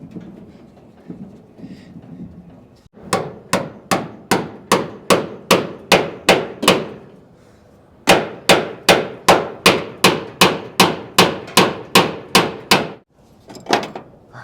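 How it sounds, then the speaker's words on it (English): Metal hammer blows ring out against the door of a 1946 International truck: a rapid burst of about eight sharp, clanging strikes, a brief pause, then a second run of roughly ten evenly spaced hits, close and loud. "Get a hammer."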